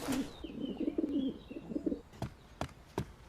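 A pigeon coos close by in a series of soft, throaty, rolling calls, followed by a few sharp clicks or taps, with no speech.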